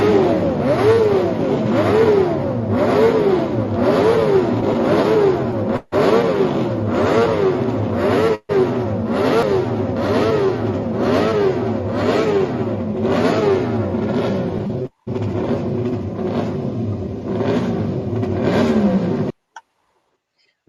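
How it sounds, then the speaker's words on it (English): Several 1960s car engines rev loudly and continuously at an outdoor classic-car gathering, with rising and falling throttle blips overlapping for about twenty seconds, briefly cutting out a few times before stopping. "So many great engines getting fired up."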